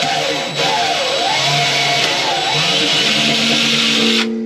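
A handheld drill drives a thread tap into metal while building electrical work for a bed, a steady loud whine with wavering pitch that dips and rises, running nearly continuously before cutting off near the end.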